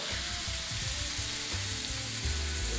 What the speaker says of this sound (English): We're gonna sear it, and I need it to sizzle.